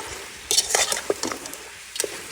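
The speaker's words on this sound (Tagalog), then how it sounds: "ginasin natin mabuti yung buto-buto" Pork ribs sauté with garlic and onion in a pot, giving a soft sizzle under scattered metal scrapes and clinks of stirring that come in short bursts.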